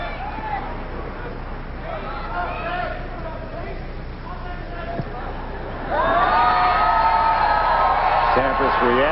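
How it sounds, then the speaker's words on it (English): Wimbledon tennis crowd at the 1995 quarterfinal between Sampras and Matsuoka, a murmuring stadium swelling into loud cheering, whoops and yells near the end, with a commentator talking over it. "sections of fans, one cheering for Matsuoka, and then the next one trying to yell louder for Sampras"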